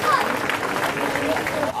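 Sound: audience applause at chili pepper eating contest

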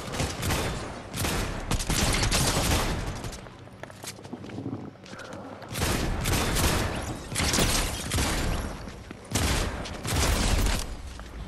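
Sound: gunfire in the video game Fortnite

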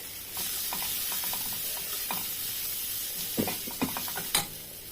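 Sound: sautéing soaked chana dal in a pan

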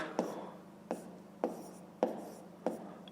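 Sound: writing numbers in a math exercise

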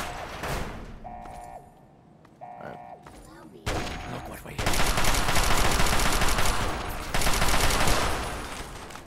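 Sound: gunfire in the video game Fallout 3

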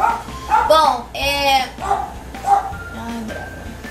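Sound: dog barking

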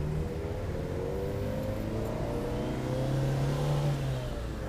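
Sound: small car engine straining up a steep hill

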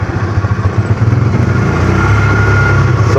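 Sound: side-by-side utility vehicle engine while riding

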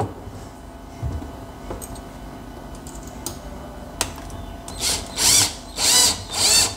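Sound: power drill driving screws into door hinges

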